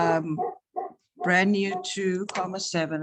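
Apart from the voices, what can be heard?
dogs barking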